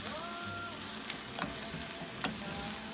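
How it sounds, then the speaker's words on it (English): Spanish rice stirred in a pot on the stove, a steady wet sizzle and crackle with a few soft spoon scrapes against the sides, close and moderately loud with no talking. "we're just gonna give this a stir"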